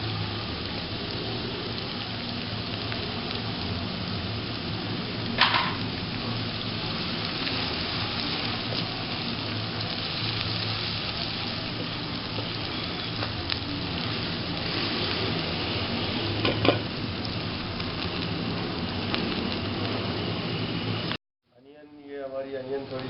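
Raw chopped onion sautéing in a pan for a brain masala fry, a steady loud sizzle running throughout with a few brief clanks, ending abruptly.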